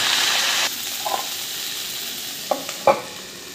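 Tomatoes go into a sizzling fish curry in a pan, giving a loud burst of frying hiss that drops away, then a few short stirring scrapes and clicks near the end.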